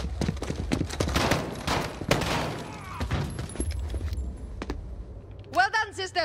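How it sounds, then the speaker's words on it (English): Gunfire in Call of Duty: Modern Warfare, a burst of sharp, close shots packed into the first few seconds, then quieter game ambience with voices speaking near the end. "Point and shoot until they fall."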